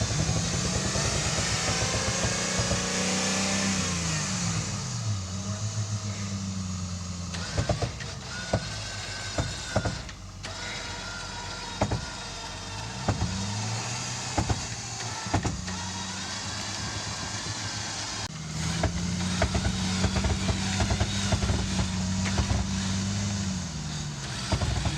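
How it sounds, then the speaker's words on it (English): A winch motor whines steadily as it pulls a Jeep WJ with a broken wheel center off a hillside, its pitch rising and falling over several pulls, with brief pauses and clicks between runs, loud and close. "Keep the winch coming."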